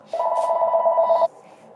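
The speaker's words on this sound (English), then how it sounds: "My phone would ring." A phone rings once with a steady electronic trill lasting about a second, fairly clear and close in a quiet kitchen during cooking.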